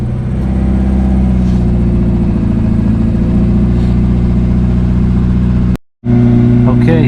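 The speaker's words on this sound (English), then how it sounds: "we're gonna fire her up" A Subaru Legacy 2.5L engine idles steadily with a low, even rumble, briefly cuts out for a moment, then starts again and settles back into idling; it has an exhaust leak.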